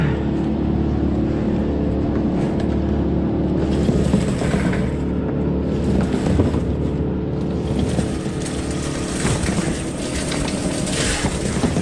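Electric Eel Model C drain cleaner motor running loud and close, a steady mechanical hum and whir that sags and strains at times as it works through a blocked line, with no talk.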